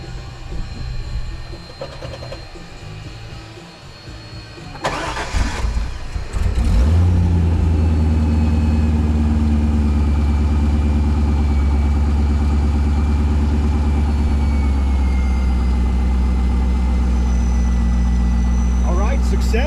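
A few clicks and a cranking burst, then a C5 Corvette V8 catches and settles into a loud, steady, rumbling idle that continues throughout.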